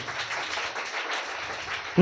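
Loud applause from a church congregation during a Telugu Christian sermon, broad steady clapping filling the space, ending with a sharp burst at the close.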